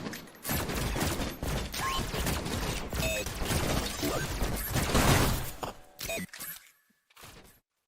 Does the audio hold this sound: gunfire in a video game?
yes